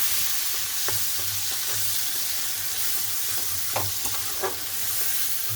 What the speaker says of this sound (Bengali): এই সময় আমি এই টমেটোটা দিয়ে